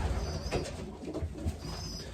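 An imported racing pigeon in a small loft coos in low, soft, repeated throaty notes, close by, with faint background hiss and no talking.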